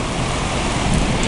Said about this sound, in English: I'm just waiting for this rain shower to stop